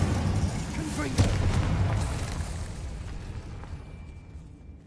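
An explosive fire spell bursts in the Hogwarts Legacy video game, a loud, broad rumbling boom that swells early and then slowly decays over several seconds.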